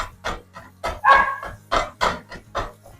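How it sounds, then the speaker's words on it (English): Puppies bark in a home kitchen, a string of sharp yaps and yips close by, repeated in an uneven rhythm with brief pauses between. "The puppies wanted to jump on and say hi to you guys as well."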